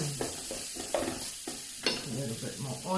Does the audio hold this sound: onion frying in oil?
yes